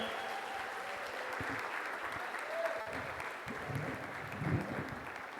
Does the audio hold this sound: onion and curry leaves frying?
no